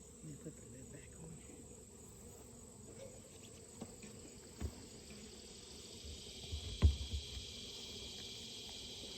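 Honeybees hum faintly around beehives at feeding time with sugar water, a soft, steady outdoor drone with a few light knocks and one louder bump near the end.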